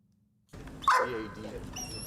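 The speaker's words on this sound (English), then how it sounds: "We introduced 2 members of our K9 unit, police dogs Ghost and Link." Police service dog from a K9 unit giving a sharp yip or bark followed by whimpering, close by, with people talking in the background.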